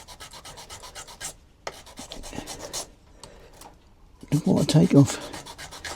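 Fine sandpaper rubs against the end of a fishing rod to thin it, making quick, rhythmic rasping strokes up close, with brief speech in between.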